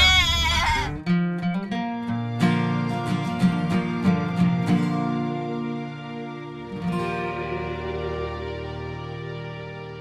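A person mimics a goat, letting out a series of loud, wavering bleats with several quick stuttering pulses in the middle, then one more drawn-out bleat near the end, with no other talking.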